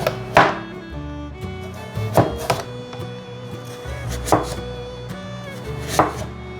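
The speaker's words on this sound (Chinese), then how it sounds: "把红萝卜切片" A knife slicing a peeled carrot on a cutting board, four crisp, separate chops spaced about two seconds apart, close and distinct against a quiet background.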